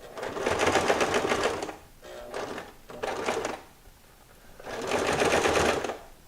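A sewing machine stitches elastic onto a fabric face mask in three separate runs of rapid, even clatter, close and fairly quiet, with short pauses between them.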